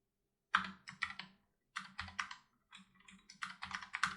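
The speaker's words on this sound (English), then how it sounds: "I'm gonna type in my title." Close, crisp computer keyboard typing as a title is entered, arriving in three quick bursts of rapid keystrokes separated by brief silences.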